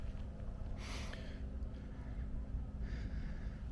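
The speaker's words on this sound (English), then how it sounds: "Please excuse my heavy breathing." Heavy breathing after a hike up to a hilltop overlook near Dana Point, California: two loud breathy exhalations about two seconds apart, close to the mic over steady outdoor wind and low rumble.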